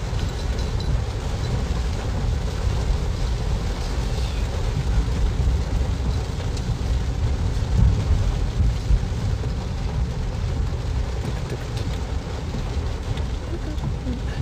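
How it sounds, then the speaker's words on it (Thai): Heavy rain falls in a dense, steady roar that stays loud and unbroken throughout, with voices faintly underneath. "ฝนตกครับตอนนี้ฝนตกครับผม"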